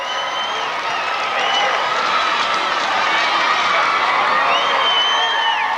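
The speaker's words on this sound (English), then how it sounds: "Just a great crowd here at the Coliseum tonight for the game between Garfield and the Redmond Mustangs." A large crowd at a 1991 state basketball championship game in the Coliseum, Garfield against the Redmond Mustangs, roars and cheers steadily, a dense sustained wash of voices that swells slightly toward the end.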